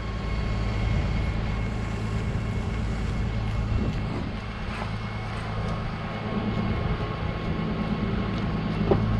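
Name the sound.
International ProStar truck engine started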